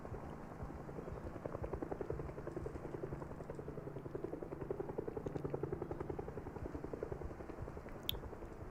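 In the zombie survival game Project Zomboid, a helicopter's rotor thumps in a steady, rapid, fairly faint chop that continues throughout.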